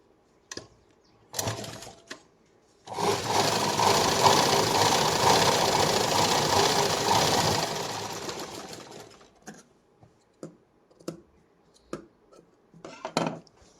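A sewing machine stitches a princess-style blouse for a cut-border saree, running in a loud, steady mechanical whir for several seconds, then stopping amid soft handling clicks and taps.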